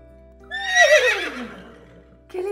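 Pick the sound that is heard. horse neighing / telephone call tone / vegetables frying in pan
horse neighing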